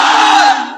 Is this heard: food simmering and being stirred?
no